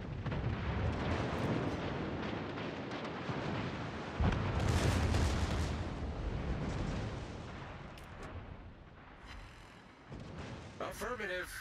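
Booming salvos from the battleship Kii in a naval video game roll out in long, heavy rumbling waves, loud at first and then fading, with radio-style voices chattering over the end.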